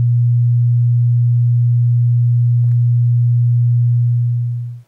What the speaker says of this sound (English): So here's a sine wave.